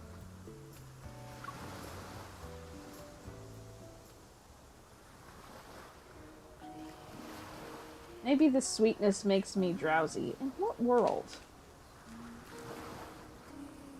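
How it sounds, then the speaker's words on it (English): Ocean waves churn in a soft, steady wash beneath voices talking and gentle music in the game Love and Deepspace. "The sound of the waves reverberates in my ears"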